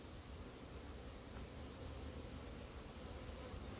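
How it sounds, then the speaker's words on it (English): A box of packaged honeybees gives off a steady, dense buzzing hum that holds at an even level throughout, with no voices. "the nucleus hive is costs quite a lot more than just a random packaged bee set like this"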